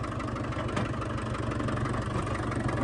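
A steady, low Mahindra tractor engine idle with a stuck gear rumbles continuously with no change in pitch, a constant mechanical drone with no voices.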